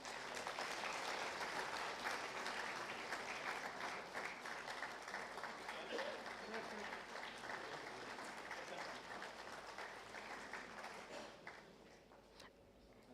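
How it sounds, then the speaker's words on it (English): Sustained, fairly soft applause fills a hall at an Indian infrastructure summit as a chief guest is thanked, a dense crowd clapping for over ten seconds before tapering off toward the end. "Can we have a round of applause,"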